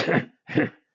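Two short, rough throat-clearing coughs made by a voice imitating the sound, close and fairly loud, separated by a brief pause.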